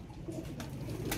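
Soft, low pigeon cooing close by, a steady murmuring coo with no other sounds.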